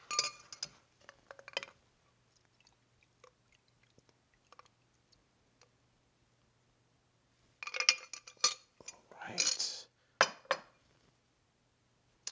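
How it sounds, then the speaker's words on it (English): Ice cube clinking against a rocks glass while a Boulevardier cocktail is made: a cluster of bright clinks at the start, a long quiet stretch, then denser clinking and rattling bursts near the end, with no talk. "we're doing it on a cube, a nice rocks glass here."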